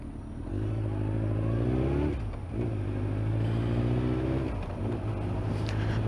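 Suzuki GSX1400 motorcycle pulling hard up through the gears, each rising engine note cut by a short dip at the shift before climbing again, loud and close with no talk.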